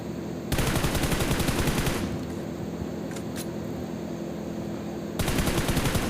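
Automatic gunfire in PUBG Mobile comes in two sustained bursts of rapid, steady shots, one at the start and one near the end, with a quieter stretch between them.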